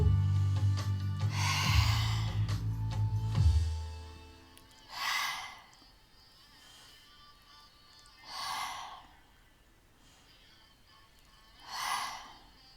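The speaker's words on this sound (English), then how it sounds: "you can bring the sound of the chakra with the exhale" Three slow, audible exhales during chakra meditation, spaced a few seconds apart and close to the ear, following a deep low hum at the start.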